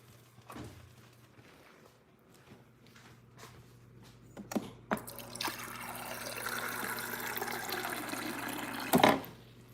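Water poured into a mix of arrowroot powder and sugar while making boba milk tea, a quiet trickle that swells into a steady, louder pour near the end.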